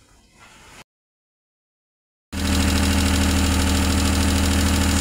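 A freshly overhauled Suzuki F6A engine fires on the first try after a brief gap, then runs at a loud, steady idle with a pulsing mechanical hum close by.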